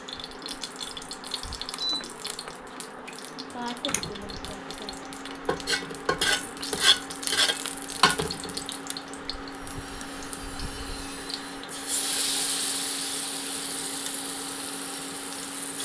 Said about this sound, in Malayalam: പിന്നെ ഒരു ചെമ്പല്ലി കുട്ടന്മാരെ നമ്മുടെ ചട്ടിയിലേക്ക് ഫ്രൈ ചെയ്യാം